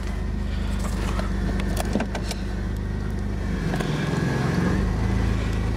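A car engine, started on a new Century battery, runs close and steady with a low, even rumble and a few light clicks and rattles, with no talking.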